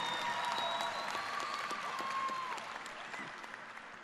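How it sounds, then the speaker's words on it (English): A graduation ceremony audience at Mound Street Academy applauds top-of-class graduates. The clapping is steady and fairly soft, with a few whistles or tones early on. It fades gradually toward the end. "Please give us a round of applause."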